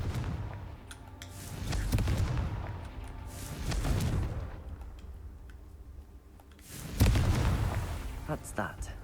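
A Confringo fire spell from the video game Hogwarts Legacy bursts as several booming explosive hits with crackling tails, the loudest near the end, set against quiet game ambience.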